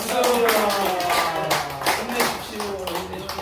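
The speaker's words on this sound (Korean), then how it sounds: "예, 박수." Clapping from a crowd at the opening ceremony of a Freedom Village office in Sinpyeong 1-dong, Saha, Busan, following chanted cheers; loud, close handclaps under sustained voices and a tonal hum, with people talking throughout.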